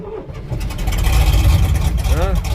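An International truck engine cranks over and catches, a rough rumble that swells and stays loud and close for a couple of seconds.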